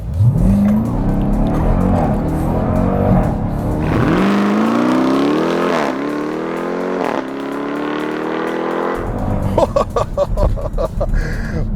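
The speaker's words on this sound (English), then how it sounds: "Let's do a launch control with the Durango Hellcat." A 2021 Dodge Durango SRT Hellcat with a 710-horsepower engine roars through a launch control start, loud and close, its engine note climbing through successive gears with brief shift breaks and a little tire noise near the end.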